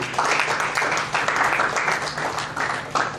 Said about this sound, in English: We need to give a round of applause to our nation.